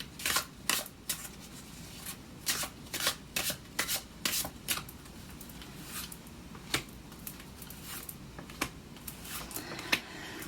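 Tarot cards riffled and shuffled by hand in a series of quick, crisp bursts of flicking and sliding card edges, close and fairly quiet, with no voice.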